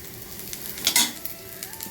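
Onions sizzle steadily in a hot pan, with a few light scraping and stirring sounds rising briefly in the middle.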